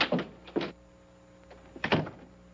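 An office door in a 1950 film scene opens and closes, giving a few close thumps and latch clicks separated by quiet room tone.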